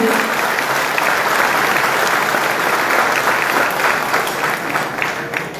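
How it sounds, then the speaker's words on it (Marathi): Loud, sustained applause from a large audience gathered at a temple for a devotional singing program, a dense steady wash of clapping that fills the whole stretch without pause. "या आत्ताच्या ज्या टाळ्या होत्या आणि टाळ्यांचा कडकडाट होता"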